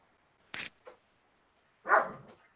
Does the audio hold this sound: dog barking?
yes